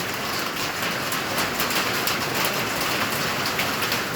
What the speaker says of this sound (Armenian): սպասում եմ մինչև որ կարկուտը կտրվի